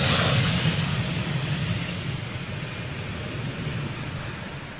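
A British Airways Boeing Dreamliner airliner at Manchester Airport gives off a steady, broad jet roar, loudest at the start and easing slightly as it moves away, with no talk over it.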